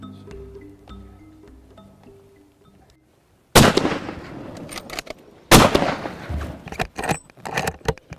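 Two loud rifle shots fired at a crocodile during a hunt in Zambia, sharp close cracks about two seconds apart, each with a short rolling echo, after a stretch of quiet outdoor ambience.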